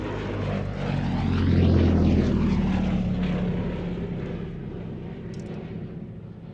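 A Gloster Gladiator biplane fighter flies past at an air show, its propeller engine drone swelling to a loud peak as it nears and then fading steadily as it moves away, with no voices.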